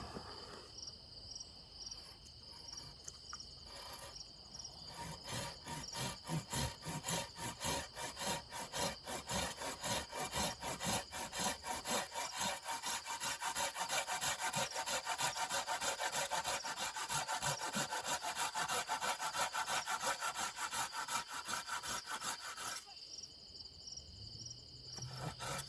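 A Silky hand saw cuts a dovetail notch in maple with fast, steady rasping strokes close by. The strokes grow louder and denser midway, and insects chirp faintly in the background.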